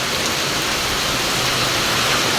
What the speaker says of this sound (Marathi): पाऊस इतका जोरात सुरू झालेला आहे